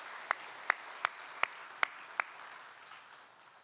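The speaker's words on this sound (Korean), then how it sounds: "그동안 성가대가 수고하신 격려의 마음을 담아서 우리 함께 박수 치겠습니다" At an Easter Sunday church service, a congregation claps for the choir in six sharp, evenly spaced unison claps, then trails off into quiet room tone.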